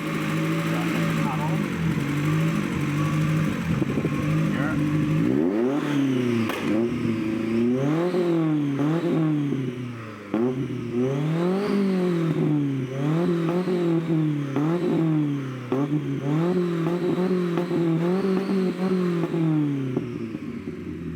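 A Toyota Corolla 2E engine with ignition-cut anti-lag revs in repeated rising and falling sweeps, loud and close, with stuttering cuts at the peaks; someone talks over parts of it.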